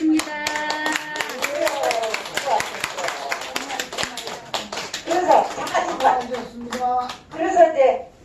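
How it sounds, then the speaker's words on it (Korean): An audience claps hands in a laughter-exercise class at a public health center, a run of sharp, fairly close claps with varying rhythm mixed with people talking. "박수를 쳐줘."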